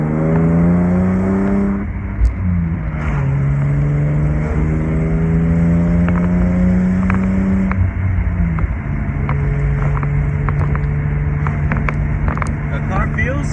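A BMW E36 with a slight exhaust leak, heard from inside the car, its engine droning loudly and climbing in pitch through several gear changes. Occasional clicks and ticks sit over the steady engine note.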